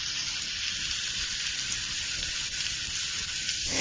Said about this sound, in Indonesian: Dan jika minyaknya udah panas, masukkan irisan bawang merah dan bawang putih yang tadi sudah disiapkan